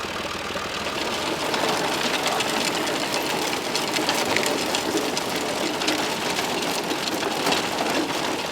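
A John Deere 1140 tractor pulls a Turnill potato lifter through a field, a loud, steady engine drone with clattering machinery noise throughout and no talk.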